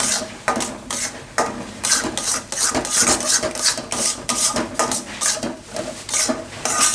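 Milk being stirred into suji besan halwa in a pan, rhythmic repeated scraping and rubbing of a spoon against the pan, close and steady.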